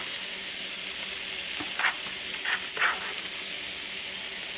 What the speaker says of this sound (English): Still a little sizzling, but it's okay.